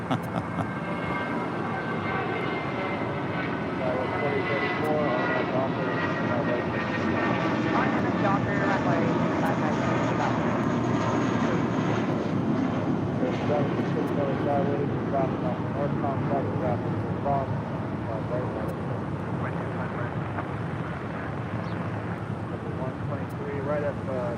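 A JetBlue airliner in 2023 livery arriving at LAX on the south side, a broad steady roar of jet engines that rises and holds, heard from a distance with steady wind-like noise.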